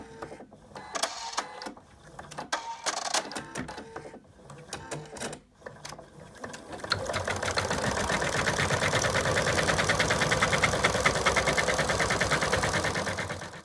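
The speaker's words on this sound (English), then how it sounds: "The first thing the machine's going to do is do the placement line for the muzzle." Embroidery machine stitching the placement line for a dog's muzzle in an in-the-hoop project, starting with intermittent whirs and clicks, then settling into a steady, rapid, close stitching drone.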